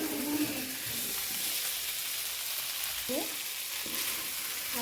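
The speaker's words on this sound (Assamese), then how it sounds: "সেইকাৰণে মই মাংসখিনি আলুৰ লগত মাংসখিনি ভালকৈ অলপ ভাজি আছোঁ।" Pigeon meat and potatoes frying together produce a faint, steady hissing sizzle with a few soft stirring sounds and brief chirpy tones.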